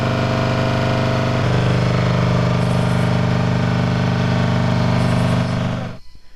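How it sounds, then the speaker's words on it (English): A steady engine drone of distant generators at night hums continuously at moderate loudness, then cuts off abruptly near the end leaving faint pulsing sounds. "The sound of generators revs from a distance"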